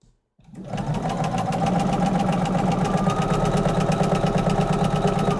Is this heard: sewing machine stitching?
yes